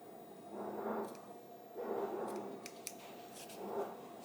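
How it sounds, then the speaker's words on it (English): Curved scissors snip through fabric or stabilizer in an in-the-hoop sewing project, giving three soft, close cutting strokes in an even rhythm with small sharp clicks of the blades between them. "And curved scissors will work really well for this too."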